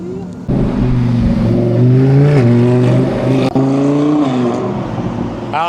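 A car engine roaring on the Nürburgring at high speed, loud and close from inside the car, with pitch climbing through gears and a sharp shift break midway, sustained throughout.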